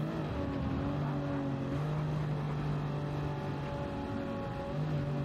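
Mercedes race car in Gran Turismo 7 droning at a steady high pitch through a constant engine note with harmonics, sustained and close, no talking.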